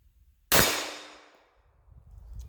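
A single loud shot from a Kimber Custom II .45 ACP pistol fired outdoors on a hillside, a sharp crack with a ringing decay that fades over about a second, then quiet rustling.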